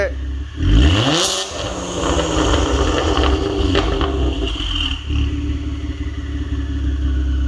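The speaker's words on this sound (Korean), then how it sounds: "지금 가변 온이 되어 있는 상태로 엑셀 한번 밟아보겠습니다" A Kia Stinger with a titanium variable exhaust set open revs sharply once, rising to a loud rasping peak and dropping back to a deep, rumbling idle that stays loud and steady.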